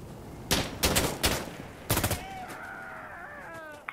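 Gunfire in Insurgency Sandstorm during a night match on the Trainyard map: four loud, sharp bursts come in quick succession over the first two seconds, followed by a fainter wavering tonal whine that carries on to the end.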